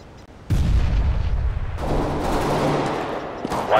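A grenade blast in CS:GO erupts suddenly after a quiet moment, followed by a sustained roar of rumbling debris and scattered gunfire that continues loudly to the end.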